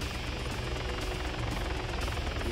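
A helicopter flies in Arma 3 on the Chernarus map, giving a loud, steady rotor-and-engine roar that holds evenly the whole time with a faint rhythmic chop, and no voices.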